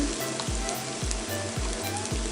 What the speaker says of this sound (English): I'm going to continue to saute that with the onion mixture for another minute more